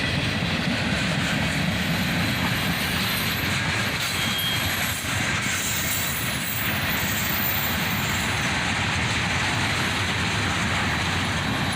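CSX freight train of boxcars and white gondolas rolling past, a steady, dense rumble with rail clatter and faint wheel squeal throughout, close and continuous, no talking.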